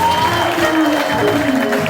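Applause from a church congregation at a gospel worship gathering, a steady wash of clapping that runs under an ongoing amplified voice and music throughout.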